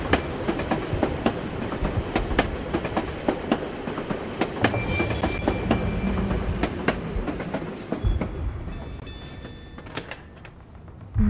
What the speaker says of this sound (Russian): На трамвае можно доехать до реки.